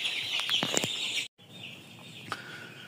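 A young chick recovering from illness under a heat bulb gives a few short clucks and chirpy calls close by, followed by a brief cutoff and quieter background hum.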